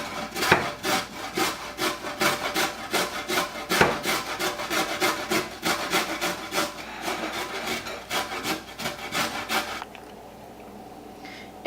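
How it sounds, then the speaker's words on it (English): A large carrot rubbed steadily against a grater, a rapid run of rasping strokes filling most of the clip up close, then stopping near the end. "now we're gonna grate the carrot until it is finely grated"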